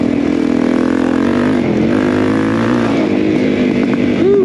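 Motorcycle engine revs hard as the throttle opens on a mountain valley ride, a loud, steady drone that climbs in pitch near the end, heard up close with no voices.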